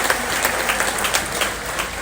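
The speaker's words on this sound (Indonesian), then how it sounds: "Kasih tepuk tangan." An audience at a cultural talk event claps to welcome a guest, producing steady, dense applause throughout without speech.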